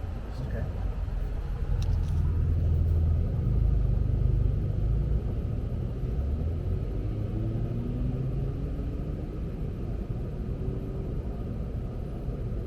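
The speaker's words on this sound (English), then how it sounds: "So that GT3 ahead of us is currently doing his thing out there." A Porsche GT3 making a launch run on a track at the Porsche Experience Center in Los Angeles: a distant engine swells and climbs in pitch over a steady low rumble of wind and background noise, with no nearby voices.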